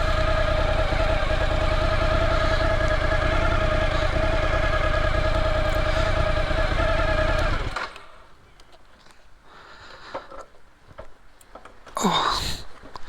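Motorcycle engine running loudly and steadily up close for about eight seconds, then cutting off as the bike is moved into the shade, leaving quiet shuffling and faint handling noises.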